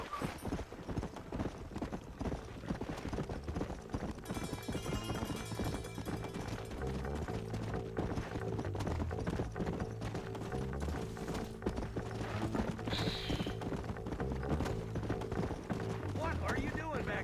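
Horse hooves gallop in a steady clip-clop rhythm in the video game Red Dead Redemption, sounding continuously under game music and voices talking.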